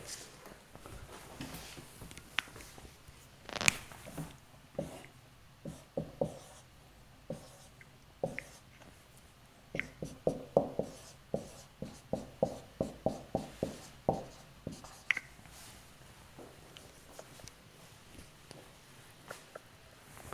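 A marker squeaks and taps across a whiteboard in a physics lab classroom, with a quiet run of short strokes growing busier and more rhythmic midway before thinning out.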